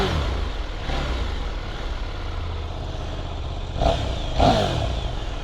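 A KTM Duke 890R motorcycle sits idling in sport mode with a steady rumble, then gives two quick, sharp throttle blips near the end, the second louder and fuller.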